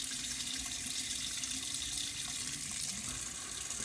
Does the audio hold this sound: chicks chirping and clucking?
no